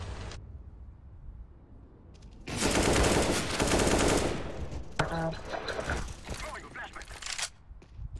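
Rapid automatic gunfire from a shooting video game bursts out loud for a few seconds, followed by scattered shots, with players chatting over and between the volleys.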